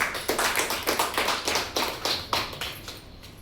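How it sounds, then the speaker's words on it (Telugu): Audience applause at a company product-knowledge meeting, a run of loud, close, rhythmic claps in a steady beat that fades off near the end. "సార్ కోసం మరొకసారి గ్రేట్ క్లాప్స్."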